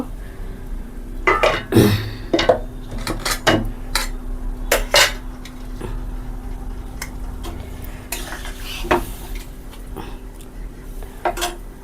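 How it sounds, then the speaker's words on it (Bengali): Pre-fried okra tipped into a pan of fish curry with vegetables: sharp metallic clinks and scrapes of utensil on pot come in irregular bursts over a low background hum, close and fairly loud, no talking. "এখন আমি ভেন্ডিগুলা দিয়ে দেব, বেজে রাখা ভেন্ডি এইগুলা দিয়ে দেব"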